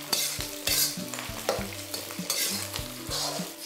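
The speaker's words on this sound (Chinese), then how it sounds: "接着把蒜梗放进去，这个蒜梗的香味同样要把它炒出来。" Garlic stems tossed in a wok with Chinese sausage and squid for a Hakka glutinous rice dish, with a steady sizzle and repeated scraping strokes of the spatula at close range, no voices.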